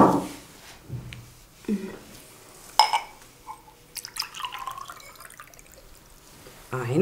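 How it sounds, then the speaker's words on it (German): Water poured from a glass into a cup of plaster powder, brief splashing pours and drips close by, broken up by a child and an adult talking. "Und zwei Gläser Wasser kannst du reinfüllen."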